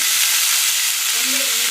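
Capsicum sautés in a pan for an onion and capsicum thuvaiyal, giving a brief, steady, bright hiss of frying close by.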